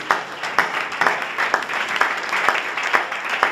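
A church congregation claps in rhythm, steady sharp beats about twice a second over a bed of crowd noise and cheering, moderately loud and filling the room.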